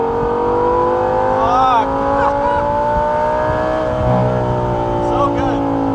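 Audi R8 V10 revving through a gated Valvetronic exhaust, loud rising and falling engine howls with high-pitched harmonic sweeps up close and a brief exclamation from a person in the car.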